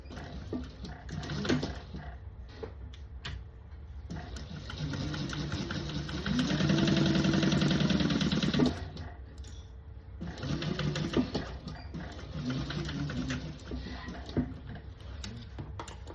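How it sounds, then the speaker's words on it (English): A sewing machine stitches down the sides of a tote bag pocket in two close, steady runs of rapid whirring and ticking, separated by a brief pause. "Okay, sewing down both sides."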